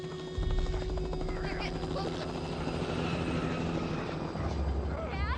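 A helicopter in the video game The Last of Us: steady rotor thrum and engine drone fill the clip continuously, loud and close, with brief voices mixed in over it.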